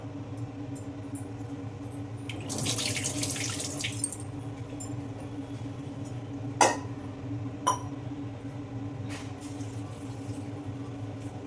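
Water runs and splashes briefly into a cooking pot for wheat rava kadambam, followed by quiet room tone and a couple of sharp metallic clinks.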